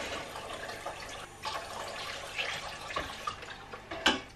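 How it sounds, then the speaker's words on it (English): A pan used for dyeing yarn with avocados is rinsed under running water, a soft splashing trickle with scattered clinks and a sharper knock near the end, close but fairly quiet. "Okay, let's rinse the pan."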